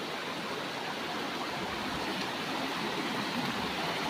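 Creek water flows steadily over rocks in a broad, constant rushing wash that stays even and close throughout, with no voices.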